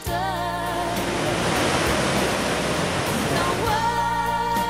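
Ocean waves wash in at low tide at Hell's Gate on the Portuguese coast, a loud continuous roar of surf and spray with no breaks, close by and with no voices.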